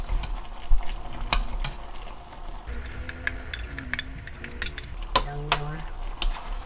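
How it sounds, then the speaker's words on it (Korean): Spicy chicken feet with sauce sizzle in a hot pan while a utensil scrapes and clinks against the metal in quick, irregular taps. "이걸 흔들어 구워야지"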